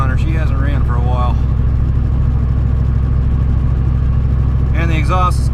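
Idling 1990 Ford F350 with a 7.3 IDI diesel and an exhaust cut off under the cab, a steady low rumble running throughout while someone talks near the start and end.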